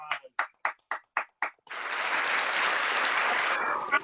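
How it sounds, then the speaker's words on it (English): A handful of sharp, evenly spaced claps lead into a burst of steady applause for a performer at a virtual magic show, holding fairly constant before ending. "Let's give David a big round of applause"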